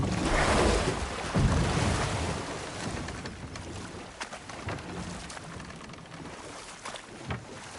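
Rushing waterfall in the God of War video game roars as a steady, broad wash of water noise, loudest at first and easing slightly, with no speech over it.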